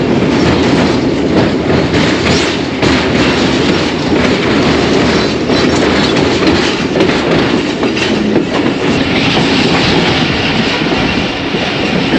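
The 101UP Subk Raftar passenger train pulls out of a station near Lahore, a loud steady rumble of wheels on rails with rhythmic clickety-clack and occasional faint squeal, heard from on board throughout.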